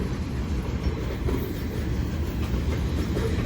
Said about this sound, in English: Luckily this train isn't too long